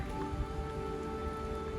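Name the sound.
rain falling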